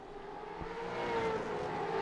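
V8 Supercar engines in a sim racing game at Long Beach, a steady droning roar that swells slightly as the cars accelerate, heard up close without voices.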